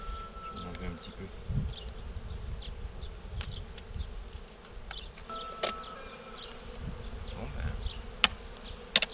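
Honeybees buzz around an old Dadant hive, number 15, during a first inspection and box change: a steady, fairly soft droning hum with scattered tiny clicks and taps, and a brief murmured word.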